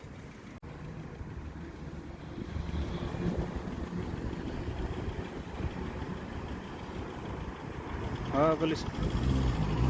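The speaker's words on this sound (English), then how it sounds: "he's gonna do a drive-by now." A Vauxhall Astra H 1.4 SXi with its muffler deleted is heard as a steady, loud exhaust drone that swells near the end as the car drives past, with a person speaking briefly over it.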